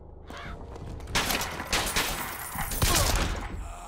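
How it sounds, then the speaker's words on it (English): Crows caw in the Bioshock Infinite video game, harsh calls rising over a busy, noisy game soundscape with bursts of loud thumping and rushing sound. "Crows."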